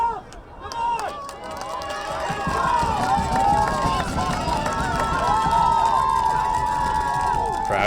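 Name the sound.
soccer crowd cheering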